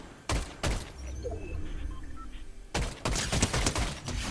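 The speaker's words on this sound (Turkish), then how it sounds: "Ha vurdun beni şu an mitralyözle." Bursts of automatic machine-gun fire in the video game Fortnite, two sharp volleys near the start and a denser, sustained burst after a short lull, loud and close with no talk over it.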